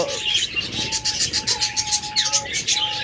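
Small pet birds such as cockatiels, budgerigars, lovebirds and doves chirp and tweet in a steady cluster of bright, repeated calls with thin whistled tones, fairly close and continuous.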